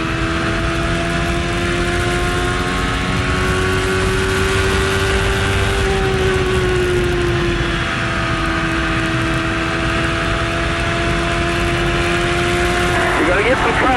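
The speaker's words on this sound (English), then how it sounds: "let's crank it up and listen to full throttle Champ Car action." Champ Car race cars at full throttle during a 2004 race at Milwaukee, a continuous loud engine drone with rising and falling pitch as cars pass, sustained throughout with a commentator talking over it.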